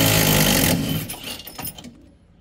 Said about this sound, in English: using a 24mm socket on a half-inch impact driver